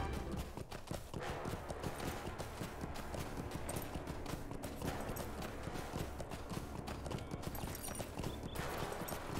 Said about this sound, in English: look at that beautiful horse